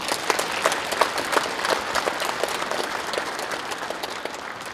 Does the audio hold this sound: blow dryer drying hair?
no